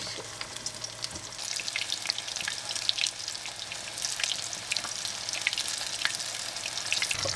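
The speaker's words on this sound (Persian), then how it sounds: "هم بادمجونام رو میذاریم سرخ بشن کاملا." Eggplant pieces deep-frying in oil for kashk-e bademjan, a dense steady crackle and sizzle with scattered sharp pops, close and continuous throughout with no talking.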